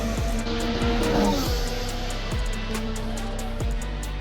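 Formula 1 race cars scream past during qualifying in Montreal, loud high-revving engines with repeated sharp gear shifts and dropping pitch as each car passes, one car after another in quick succession.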